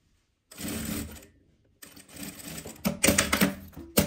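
A sewing machine stitching a thin 3 mm zipper, face to face, running in short bursts with a pause between them, close and fairly loud.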